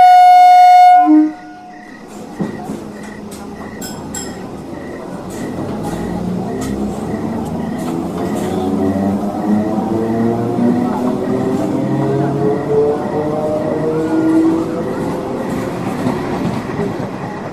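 A passenger train runs at night. A brief horn blast opens, then a steady loud rumble and rhythmic wheel clatter carry on without a break.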